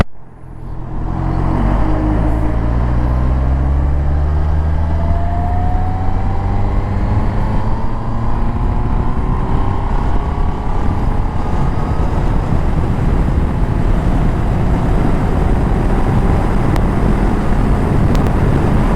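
A Honda CB 650R motorcycle in 6th gear pulls from about 25 km/h idle under throttle, engine drone rising steadily in pitch under heavy wind buffeting on the microphone.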